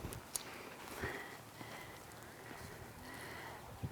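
A horse trotting over four ground poles in a show pattern, hooves clip-clopping in a light rhythm with a soft snort, fairly near, under a low hum of background voices.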